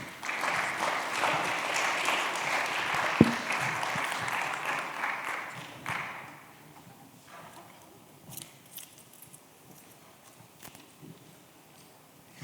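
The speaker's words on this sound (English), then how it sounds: "Please give them a round of applause." Loud crowd applause at an education conference panel fills the first six seconds, then fades to scattered claps and faint movement noises.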